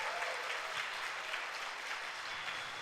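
A church congregation at a Sunday service applauds steadily, a dense, even wash of many hands clapping at moderate distance, continuing without pause.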